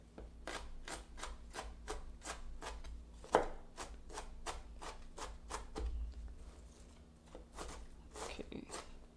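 Knife chopping food on a small chopping board in a test kitchen while making gyoza, a steady run of crisp close taps with a few louder knocks, fairly quiet.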